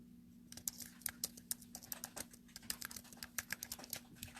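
Quick, irregular clicks of a computer keyboard being typed on, faint and close, over a low steady hum with no talking.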